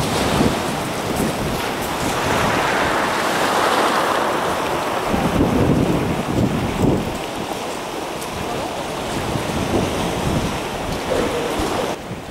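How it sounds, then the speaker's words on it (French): The sea at high tide, coefficient 118, surges up the estuary at Ambleteuse during spring tides: a continuous loud rush of surf, heavily buffeted by wind noise on the microphone. "La mer remonte dans l'estuaire jusque dans cette petite rivière qui s'appelle la Slack."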